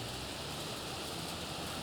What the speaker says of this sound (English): the rain is only but increasing